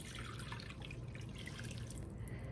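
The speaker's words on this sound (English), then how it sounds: "we're going to go ahead and start off with our 4 cups of water" Four cups of water poured into a pot or skillet at a stovetop, a steady close trickling and splashing stream running unbroken throughout, with no talking.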